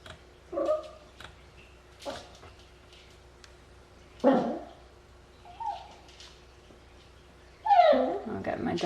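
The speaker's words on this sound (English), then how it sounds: "my dog down here. He wants to help." A dog whimpers and gives short whiny yelps in scattered bursts, moderately close, with quiet gaps between them.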